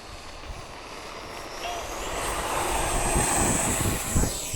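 Radio-controlled pattern model airplane flying at a field on a cold, windy December day, its engine whine rising steadily and drawing nearer over a few seconds against a broad wind rush, with no talk.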